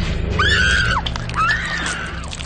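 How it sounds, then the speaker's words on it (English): A woman's two long, loud screams in a horror film scene, each a sustained high wail lasting about half a second over background noise. "Granted, I had a good scream."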